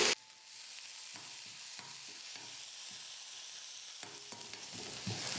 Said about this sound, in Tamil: வெங்காயம் சேர்த்துட்டு ரொம்ப வதக்க வேணாம், சும்மா லைட்டாக ஓரளவுக்கு வதங்குச்சுன்னா மட்டும் போதும்.